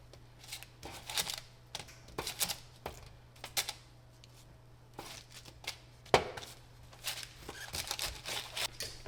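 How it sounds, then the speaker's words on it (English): Roasting potatoes are flipped on an oven pan, a run of quiet, uneven clacks and scrapes of utensil on metal tray, close by, with no talk. "the recipe says we're supposed to flip these potatoes"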